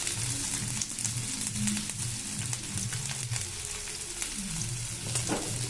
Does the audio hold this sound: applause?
no